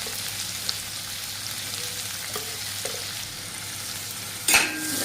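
Onion frying in hot oil for a spicy Maharashtrian chutney gives a close, steady sizzle, with a few light clinks and a sharper crackling burst near the end.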